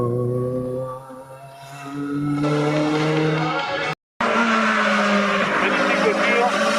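Group N class 3 race car, over 700 cc, at the Orbec hill climb. The engine wails loudly through rising gear harmonics, drops out briefly, then comes back hard and close, with a commentator talking over it.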